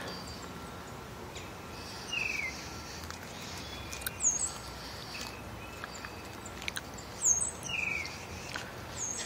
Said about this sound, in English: I hear a lot of birds too.